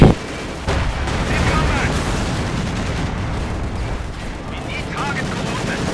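Dense rumbling battle noise from the Company of Heroes 2 strategy game, with an opening boom followed by continuous overlapping artillery and gunfire blasts, loud and sustained throughout the stretch.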